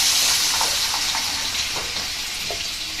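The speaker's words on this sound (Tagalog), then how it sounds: "Lalagyan na po ni mama ng sabaw." Broth being poured into a cooking pot of sautéed siomai for misua noodle soup, a steady bright liquid rush with faint clinks, close and fairly loud throughout, no talking.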